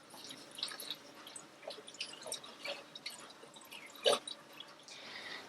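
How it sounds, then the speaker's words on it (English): Coolant water dripping and trickling from a loose Jubilee hose clip while a radiator is filled on a rebuilt Spitfire-specification engine in a Triumph Herald 13/60, with soft intermittent drips and one sharper splash, fairly close. "just had a bit of a water leak, but that was just a Jubilee clip that wasn't tight enough"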